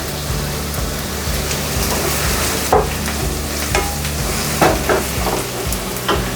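Chopped ginger and garlic fry in oil for a chicken roast, with a dense steady sizzle up close and a few sharp spatula scrapes and taps.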